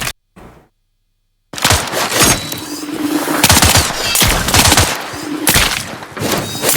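Rapid gunfire in the hero shooter Marvel Rivals bursts in after a short silence, loud repeated shots and impacts crackling in quick clusters over a constant hum of game effects.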